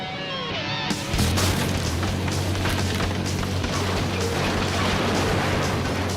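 Two Super Dozers with a combined 23,000 horsepower crush a 14-meter mobile home trailer. After a short lead-in, a loud, steady mass of engine roar and grinding, crunching debris plays with no one speaking.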